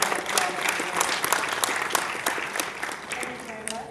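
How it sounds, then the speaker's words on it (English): An audience at a digital health policy event gives a steady, sustained round of applause, dense clapping with sharper individual claps standing out throughout. "So big round of applause."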